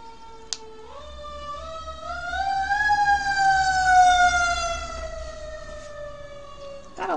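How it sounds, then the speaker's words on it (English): A fire truck siren passes close by near a fire station, a single loud wail that rises, holds high, then slowly falls as the engine moves away. "We have a fire truck driving by."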